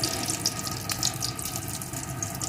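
Dry red chili, a bay leaf and whole cumin fry in hot oil with a constant, close, hissing sizzle and faint crackles, without a break.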